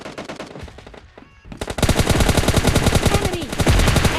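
Rapid automatic gunfire in the mobile battle royale game PUBG Mobile Lite, dense repeated bursts that grow louder and continuous after a brief lull, close and prominent with no talking.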